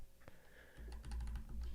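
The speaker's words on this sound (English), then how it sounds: "I'm going to hit B on the keyboard" A computer keyboard key is pressed once with a faint, close click, followed by a soft low rumble.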